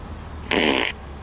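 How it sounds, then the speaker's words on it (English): A short, loud fart lasting under half a second, heard over a steady low background hum. "Why are you farting?"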